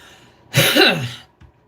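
A single close, harsh cough lasting about half a second, followed by a short breath afterward in an otherwise quiet room.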